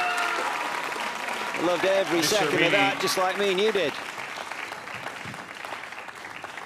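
Crowd applause swells at a professional squash match after a long rally, a dense, steady clatter of clapping with a commentator talking over it. It fades gradually in the final seconds.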